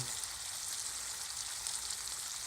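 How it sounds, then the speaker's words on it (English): Striper fillets frying in butter and olive oil in a cast iron pan, a steady, bright, hissing sizzle that stays even throughout, moderately quiet with no voices. "I'm cooking them together"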